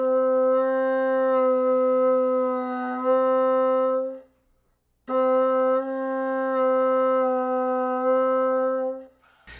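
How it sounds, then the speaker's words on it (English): A bassoon holds one sustained tone while the player shifts vowel shapes, subtly altering its color. It sounds in two long stretches split by a brief gap, steady and moderately loud, with no speech. "So you can notice as I'm changing the vowel shapes, it changes sort of the pitch a little bit and the tone of the note."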